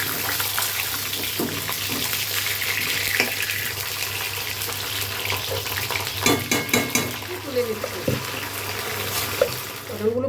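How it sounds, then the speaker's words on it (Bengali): Pointed gourd (potol) fries in mustard oil and ghee in a kadai, a loud continuous sizzle with clattering stirs toward the end and a voice briefly heard under it. "এই পটলগুলো হালকা করে ভেজে নেব"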